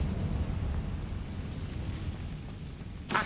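A Confringo blasting spell explodes in the Hogwarts Legacy video game: a sudden sharp burst at the very end breaks through a steady, loud low rumble of game ambience, with no talking.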